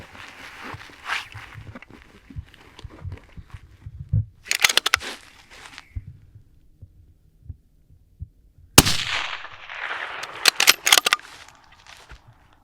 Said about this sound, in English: now I've got two shots lined up of my hand-loaded 80 grain